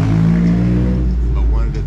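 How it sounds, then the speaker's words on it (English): Traffic rumbling past a restaurant in Bangkok, a close, loud engine drone with a car accelerating by, under a voice talking. "there's a lot of cars driving by."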